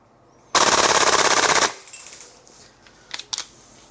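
Guns Modify 416 A5 Level 2 gas blowback airsoft rifle firing a loud, rapid full-auto burst of about a second, evenly spaced cracks, followed by a few faint clicks and handling noises.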